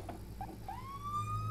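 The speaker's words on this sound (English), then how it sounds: "Yes, I hear like sirens." A police car siren in the Assetto Corsa racing game starts faint and then rises into one steady, sustained wail that carries on to the end, heard alone with no talk over it.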